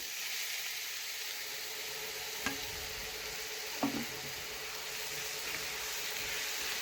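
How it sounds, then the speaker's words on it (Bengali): Steady sizzling of grated raw mango frying in hot oil, with a couple of faint clinks from stirring. "এখন গ্রেড করে রাখা আম তেলের ওপরে দিয়ে দিলাম"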